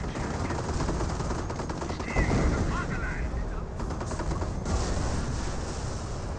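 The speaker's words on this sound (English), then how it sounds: "AT gun firing some shots there onto the Panther." In Company of Heroes, an AT gun fires shots at a Panther tank amid a dense wartime battlefield din. Sharp reports and impacts sit over constant rumbling gunfire, with a voice faintly under the noise.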